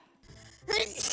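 A single sharp sneeze bursts out at close range after a brief quiet breath, loud and explosive, set in an indoor room.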